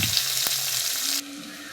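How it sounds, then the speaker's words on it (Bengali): Chopped onions drop into hot oil in a pan after the tempering spices, giving a loud, dense, continuous sizzle that eases to a quieter fry near the end. "এর মধ্যে দিয়ে দিচ্ছি পেঁয়াজ কুচি। পেঁয়াজটাকে একটু লাল লাল করে ভেজে নিতে হবে।"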